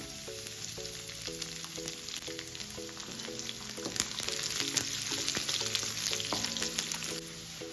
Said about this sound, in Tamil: இப்போ இஞ்சி பூண்டும் வதங்கிடுச்சு